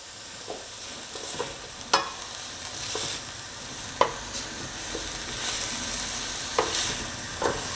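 Collard greens sautéing in oil in a pan give a steady, moderately loud crackling sizzle, punctuated by intermittent utensil taps and clinks against the pan, heard close with no voices.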